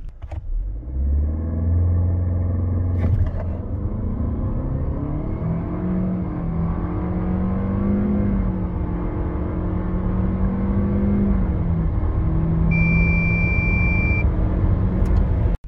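Renault Austral with a 158 hp CVT accelerating hard from standstill to 100 km/h, engine rumble and whine climbing in long smooth sweeps as the speed builds, steady and prominent from inside the cabin.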